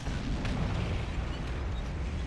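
Heavy booming blast from a World of Tanks battle, a dense rumbling explosion that swells early and then rolls on as a thick, noisy roar without speech.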